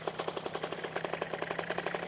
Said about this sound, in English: So, engine's on.